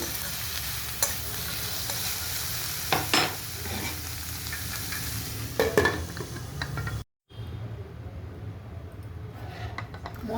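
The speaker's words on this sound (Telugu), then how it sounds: "ఉల్లిపాయలు కొంచెం వేగిపోయాయి కదా" Onions, with ginger and garlic, frying in a pan for paneer butter masala, a continuous close sizzle broken by scraping stirs and a brief dropout near the end, with no talking.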